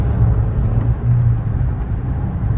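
Fiat car cruising on the road at about 40 mph in sixth gear near 1500 RPM, heard from inside as a steady low engine drone with road rumble, continuous and fairly loud, no voices.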